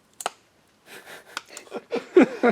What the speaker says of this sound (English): That's the sound of the switch going.